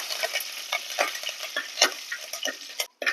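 Mustard seeds, dried red chilies and curry leaves sizzle and crackle in hot oil, with rapid irregular pops and spits over a steady frying hiss, close and fairly loud throughout, with no talking.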